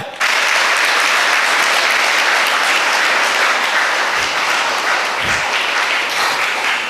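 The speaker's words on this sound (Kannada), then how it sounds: "ಒಂದು ಜೋರ್ ಚಪ್ಪಾಳೆ" Loud, sustained applause from an auditorium audience fills the hall, starting abruptly and holding steady with many hands clapping at once.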